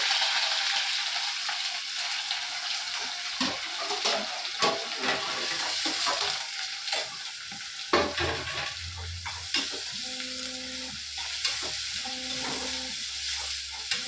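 Green chillies and onions fry in groundnut oil with a continuous crackling sizzle, broken by clinks and scrapes of stirring and a few brief tonal clatters near the end.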